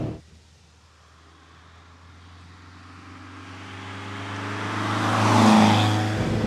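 A Lotus Europa pulls through an off-camber corner in second gear, its engine note rising steadily and swelling loud near the end before easing off slightly, with no talking.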